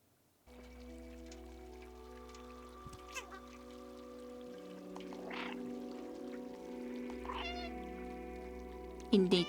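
Cat meows in the Ant village video game, several short calls spread across a steady ambient game backdrop, with a person talking over it.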